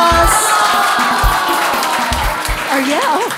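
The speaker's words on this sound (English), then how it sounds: "Let's give him a round of applause." Loud audience applause and cheering at an improvised beauty contest, a dense crowd roar of clapping and shouting with rhythmic low thumps, as if from stomping, running beneath it, and a voice rising over the noise near the end.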